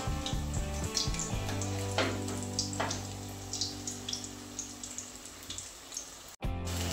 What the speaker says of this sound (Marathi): दोन्ही साईडनी छान अशी फ्राय करून घ्यायची आपल्याला एकत्र